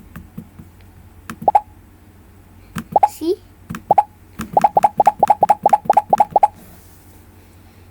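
The Scratch programming tool's pop sound effect repeats as a series of short, bright plops, a few scattered at first and then a rapid even run of about a dozen. A voice speaks briefly among them.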